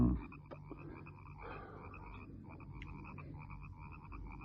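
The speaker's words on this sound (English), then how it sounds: "There must be millions of them in those marshes. The frogs." A marsh full of frogs keeps up a steady, pulsing chorus of croaks, many overlapping calls trilling at a distance over a low ambient hum, with no voices.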